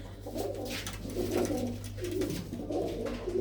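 Several blue-footed pigeons give low, rolling coos in a steady series, faint and close-ish, over a constant low hum with no talking.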